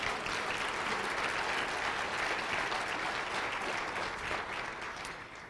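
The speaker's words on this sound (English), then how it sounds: "let's do another round of applause for our great senator." A town hall audience on water planning applauds a senator with a steady, full wash of clapping from many hands, loud and continuous before tapering off slightly at the end.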